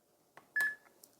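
A single short electronic beep sounds as the 0 key is pressed on a KIS-8611Q phone keypad, clear and close, framed by faint button clicks in a quiet room.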